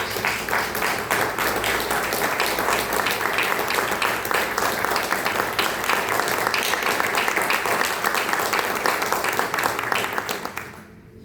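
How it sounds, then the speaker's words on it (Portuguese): A church congregation gives a long, steady round of applause for Jesus during a prayer-week service, dense clapping filling the room at full strength before cutting off abruptly near the end. "dá uma linda salva de palmas para o Senhor Jesus"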